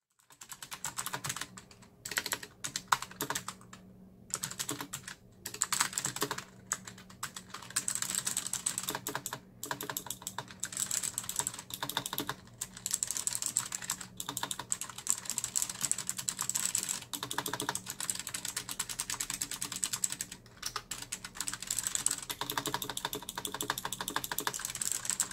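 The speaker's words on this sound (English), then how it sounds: "Here is the typing sound of the keyboard." Typing on a Bloody B945 mechanical keyboard, a close, continuous stream of crisp key clacks in quick irregular bursts with short pauses, heard alone for about twenty-five seconds.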